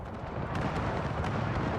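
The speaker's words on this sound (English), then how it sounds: "Love the gunshots too." Artillery and musket gunfire from the video game Pike and Shot Total War, a dense, continuous roar of overlapping booms and cracks filling the whole stretch, loud and unbroken with no talk.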